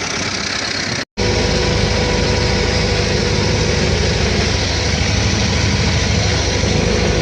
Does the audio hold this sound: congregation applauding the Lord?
no